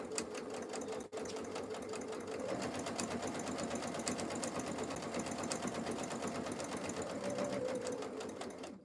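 A sewing machine runs steadily at an even pace, stitching slowly toward a corner with one brief pause near the start, a continuous close whirring rattle throughout.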